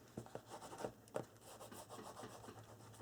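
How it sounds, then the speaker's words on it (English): Paper being burnished down by hand onto a craft flip folio cover, a soft dry rubbing with several short strokes and a few sharper swipes, close and quiet. "Burnish this down."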